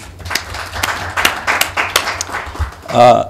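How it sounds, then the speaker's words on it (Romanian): Attendees at a Moldovan government cabinet meeting applaud ministers, giving brief, moderately loud, scattered claps in a room, and a voice begins speaking at the end. "Vă rog să aplaudăm."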